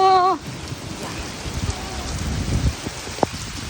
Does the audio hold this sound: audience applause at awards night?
no